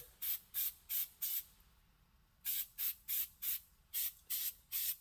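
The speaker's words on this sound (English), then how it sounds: "give them a good spraying, and then kind of squeeze that oil in there" Quick bursts of hissing spray from a pump bottle spraying oil onto foam air filters of a 1969 Yamaha DS6 motorcycle, four rapid pumps, a short pause, then about eight more, close up with no talking.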